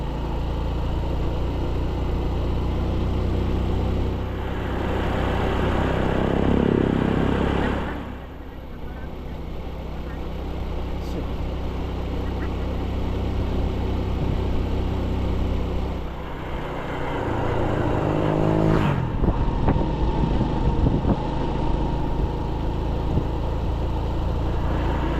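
A tricycle's motor drones steadily under riding on a road trip, with a brief dip as the vehicle slows before the engine rises again, while people talk over it.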